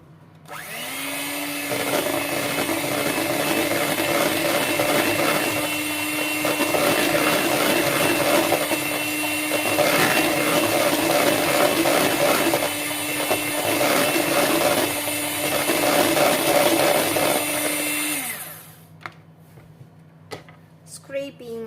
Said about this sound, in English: Now we mix everything together.